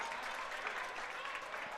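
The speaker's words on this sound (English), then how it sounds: "Pretty active crowd here." Steady crowd applause and cheering fills a junior varsity high school volleyball gym during a match, loud and continuous throughout with no clear pauses.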